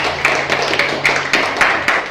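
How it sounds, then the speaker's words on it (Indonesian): A small group claps in a slow, unified rhythm of about eight sharp beats, like a classroom of children clapping together at a teacher's cue, with a low hum running underneath. "Ya, kita berikan tepuk tangan."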